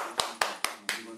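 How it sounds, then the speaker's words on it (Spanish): Four sharp, separate hand claps ring out at an even, deliberate pace in a home kitchen while a chocolate cake is made, each crisp and close with a short decaying tail. "Un fuerte aplauso"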